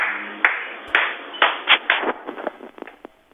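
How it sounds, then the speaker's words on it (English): A person claps, first with a few slow, separate claps, then a quicker, irregular run of claps that fades out, close and moderately loud in a plain room. "Bro, will you take your gloves off and clap for me?"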